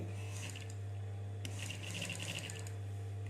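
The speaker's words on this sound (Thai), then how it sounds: "เราจะทำการเย็บทับอีกรอบหนึ่ง" An electric sewing machine stitches over a fabric shoulder pad, giving a steady low motor hum with quick mechanical needle clatter and a few sharp taps, close and fairly quiet.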